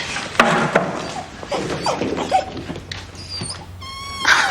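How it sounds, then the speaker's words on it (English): A small mongrel dog gives short whimpers and high yips close by, in a quiet indoor setting among light rustling and movement, with several brief cries toward the end. "Oh, boy, what are you after? It's the Johnson's dog"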